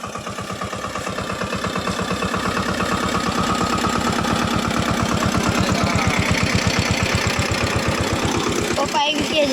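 A village tractor engine runs close by, loud and steady with an even chugging beat that builds slightly and then ends with a sharp knock.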